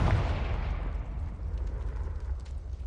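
A Confringo spell explodes in the Hogwarts Legacy video game: a single heavy, rumbling boom that bursts loud at once and then rolls and fades over a few seconds.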